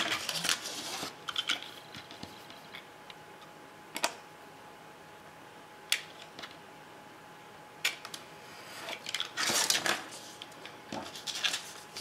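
Scissors snipping paper for a baby girl scrapbook album page, a few sharp separate clicks and short cutting bursts spaced several seconds apart against a quiet room, with a busier flurry of snips near the end.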